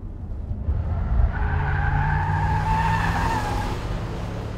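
A Range Rover Sport being driven on a race circuit, its engine note rising steadily and tires hissing and squealing slightly, loud and close, heard alone.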